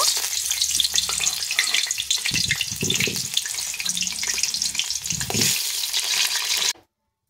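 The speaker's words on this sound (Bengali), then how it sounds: "এবার সবগুলো আলু এখানে আমি ভেজে নেব।" Potatoes frying in hot oil in a wok, loud and close, with crackling sizzle, stirring scrapes and watery spatter throughout until the sound cuts off abruptly near the end.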